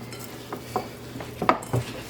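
Lamb, feta and breadcrumbs being mixed in a bowl, heard as a few soft, irregular scraping and clinking strokes up close over a low background hum, with no voices.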